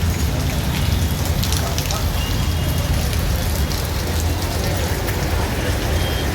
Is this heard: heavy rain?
yes